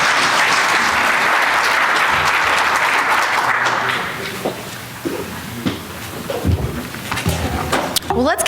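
Audience applause for a panel at the close of a community event, loud and dense for about four seconds, then fading into scattered claps and room noise.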